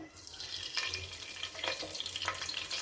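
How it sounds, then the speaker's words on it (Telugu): Curry leaves dropped into hot oil for an eggplant and potato masala curry, giving a steady close sizzle and crackle with a few sharper pops, no voices. "బాగా నూనె వేడెక్కింది. ఇప్పుడు కరివేపాకు వేసినాను."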